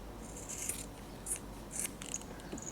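Scissors snipping through fabric for a layered ribbon bow, several crisp cuts spaced about half a second apart over a steady background hiss, close and moderately loud.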